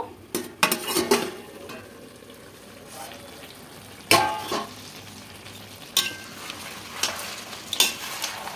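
Chicken curry with spices being stirred in a pan, sharp clanks of a utensil against the pan over a faint background sizzle, in irregular bursts.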